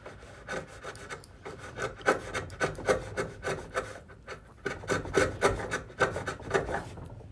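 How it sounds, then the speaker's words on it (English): A chisel pares a wooden block being fitted to a shop vise, making rhythmic scraping, rasping strokes in quick repeated bursts, close and fairly quiet. "So I chisel it a little more."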